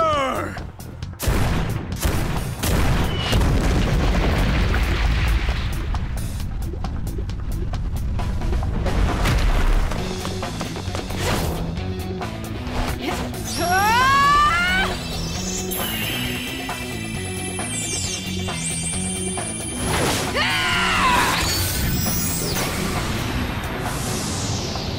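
Artillery fire in a Persona 5 Tactica cutscene: repeated heavy booms and gunfire-like bursts over dense orchestral score, with swooping effects later on.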